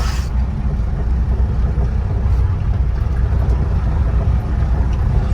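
A Mahindra Roxor runs in second gear, a loud, steady low engine rumble with road and wind roar filling the cab from start to finish.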